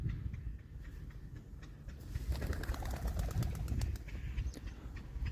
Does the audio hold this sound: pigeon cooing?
yes